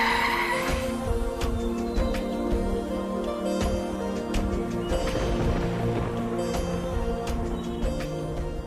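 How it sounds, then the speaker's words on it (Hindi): A car skids to a stop with a loud, sustained tire squeal over a running engine, scraping on continuously for several seconds at close range. "अरे अब गाड़ी रोक दी?"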